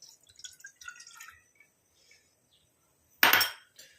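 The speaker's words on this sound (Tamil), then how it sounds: "நம்ம ரெடி பண்ணி வச்சுருக்க இந்த அரிசி மாவு தண்ணியை நம்ம உள்ளே ஆட் பண்ணிக்கலாம்" A few light drips and clinks, then a short rushing splash as rice flour water is poured into a pan, fading quickly.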